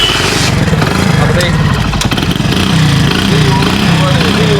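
A Hero Honda Splendor motorcycle engine starts and roars loudly and steadily up close, its rumble running throughout with a person speaking over it.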